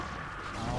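Cannons firing during a StarCraft match, a dense rumbling barrage of blasts that fills the whole moment with loud, continuous low-heavy noise.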